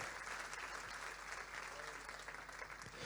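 A church congregation applauds for the Lord during a Spanish–Dutch sermon, a steady, even wash of clapping held at a fairly low, distant level throughout.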